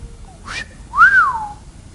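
A man gives a long wolf whistle imitating Adam's admiration on seeing Eve, a short rising note followed by a louder sliding swoop, clear and close.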